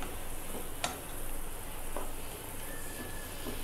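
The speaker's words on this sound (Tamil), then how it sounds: "போட்டுட்டு நல்லா லைட்டாக ஃப்ரை பண்ணிக்கோங்க." Snake gourd frying lightly in a pan as a steady, soft sizzle continues throughout, with a few faint clicks and stirring taps along the way.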